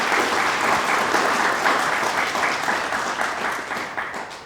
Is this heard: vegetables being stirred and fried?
no